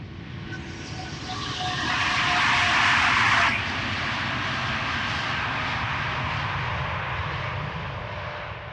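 KLM Boeing 787 Dreamliner jet departing Amsterdam Schiphol, a sustained engine roar that swells to a loud peak with a bright whine, then eases into a steady broad rumble.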